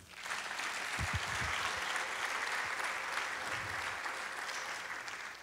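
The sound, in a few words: church congregation applauding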